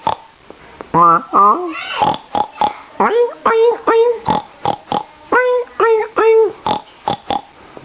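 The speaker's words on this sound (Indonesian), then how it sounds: "suara babi" A pig oinks in a string of short nasal grunts and squeals, close and loud, interleaved with clicky sharp snorts throughout, some calls stretching into longer wavering squeals.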